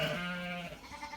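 A sheep bleats once in a long wavering cry close by, during a fly-strike treatment on a farm, the call fading out into quiet background noise.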